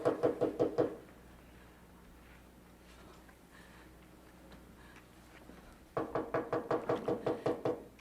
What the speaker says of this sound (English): That knock on the door